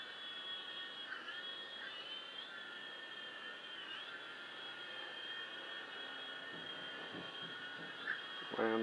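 A small Syma S39 Raptor toy drone flies indoors, giving off a faint, steady high-pitched whine from its tiny rotors, with light clatter near the end as it sets down.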